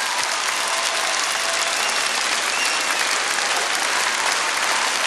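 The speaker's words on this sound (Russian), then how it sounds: "ваши бурные аплодисменты, спасибо" An audience at a children's concert applauds loudly and continuously, a dense, even clapping that fills the whole stretch without pause.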